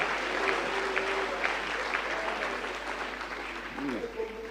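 Church congregation applauding to acclaim God, a steady wash of clapping from a sizeable crowd with voices mixed in throughout.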